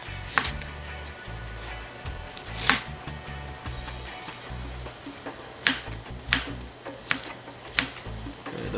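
A knife dices washed vegetables, including carrot, for Jamaican-style pineapple brown stew fish. Sharp, irregular chops land on a board over a low background hum.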